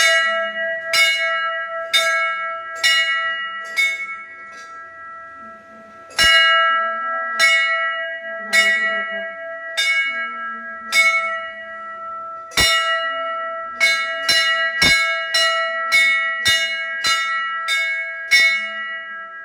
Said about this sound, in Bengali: দাদা ঘন্টা বাজে।